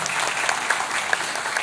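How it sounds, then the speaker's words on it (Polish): Short spell of audience applause for a guest at an anniversary gala of a veterinary technical school in Jelenia Góra, even and full with a few sharper claps standing out. "Brawa dla pani Anny Ragiel."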